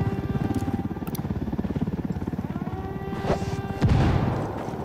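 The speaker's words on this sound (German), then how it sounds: "Und hier kommt ein Heli an." An in-game helicopter in Ghost Recon Wildlands approaches with a steady, rhythmic rotor chop, loud and close, and a couple of sharp impacts or blasts land near the end.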